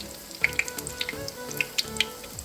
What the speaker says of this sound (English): Okay, and we see that frying kind of fast.